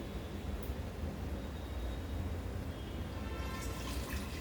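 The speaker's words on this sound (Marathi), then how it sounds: "आपण थोडस पाणी घालणार आहोत हे जे मटकी शिजलेलं जे पाणी आहे" Cooked moth bean water being poured into spiced masala frying in a pan for misal, a steady broadband rush of liquid and sizzle running evenly throughout, with a brighter splashy hiss near the end.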